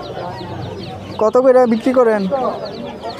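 A chicken clucking and calling at a crowded pigeon and poultry market in Sripur, Gazipur, a loud close burst of harmonic cackles in the middle while people talk nearby.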